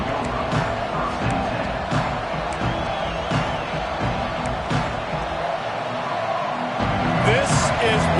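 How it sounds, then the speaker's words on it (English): Football stadium crowd at a game, a broad sustained roar with scattered shouts and bangs, steady throughout under a commentator's play-by-play. "This crowd ready to make its presence known."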